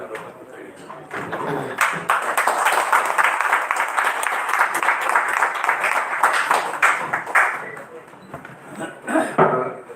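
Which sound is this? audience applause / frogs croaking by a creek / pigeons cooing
audience applause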